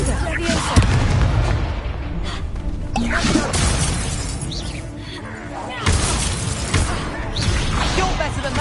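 Spell blasts and explosions crash out in Hogwarts Legacy combat, with loud bursts and shattering booms arriving one after another. Shouted incantations and taunts ring out over the battle noise, and there is a short quieter lull before the blasts resume.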